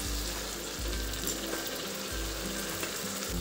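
Boiled, ground spinach going into a pan of frying onion-tomato masala for a spinach and pea curry: continuous sizzling and bubbling, with a few low thumps from stirring.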